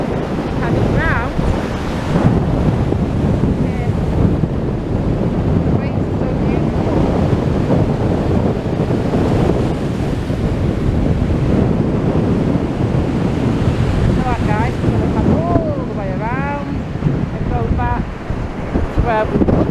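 Windy high tide on Blackpool seafront, heavy waves surging and crashing continuously against the sea wall, with loud wind buffeting the microphone and a few faint distant voices.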